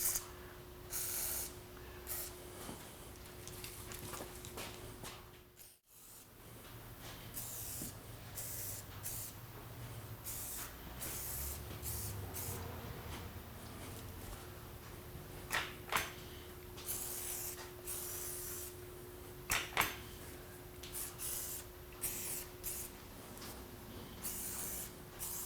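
Lubricant is sprayed onto an antique glass press in a series of short, sharp hissing bursts, several clustered near the end, over a steady mechanical hum in a quiet workshop.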